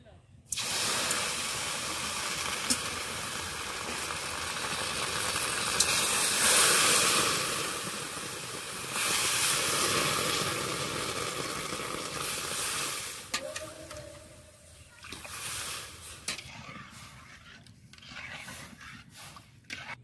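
Water poured into lentils frying in a hot pan for a winter-vegetable khichuri, a loud broad hiss of steam and sizzle that swells and then gradually settles, with kitchen clatter near the end.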